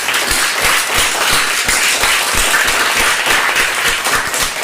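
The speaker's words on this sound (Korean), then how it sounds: "박수를 하나님께 영광 한번 드리죠" Church congregation applauding together at a Baptist worship service, a steady wash of loud clapping that runs the whole time with no voices on top.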